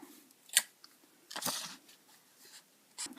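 Scissors cut through cardboard for a homemade Jurassic Park T. rex model, giving three separate crisp snips and crunches with quiet pauses between them.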